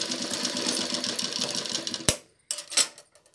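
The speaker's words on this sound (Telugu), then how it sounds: "షోల్డర్ కుట్టుకున్నాక మనము ఇలా షోల్డర్ కుట్టుకున్నాం" A sewing machine stitches the shoulder seam of a pot-neck blouse, a fast steady whirring run that stops, followed by a few sharp clicks and short bursts of stitching.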